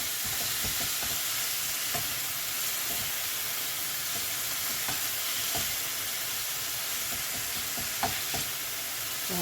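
Beef and onions browning in a frying pan give off a steady, close sizzle with a faint hiss, broken now and then by soft clicks of stirring.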